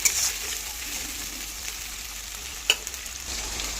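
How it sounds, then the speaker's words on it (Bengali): Prawns fry in a paste of poppy seed, chilli and cumin, giving a constant gentle sizzle close by, with one brief sharp clink of a utensil against the pan partway through. "চিংড়িটাকে এভাবে ফ্রাই করে নেবো।"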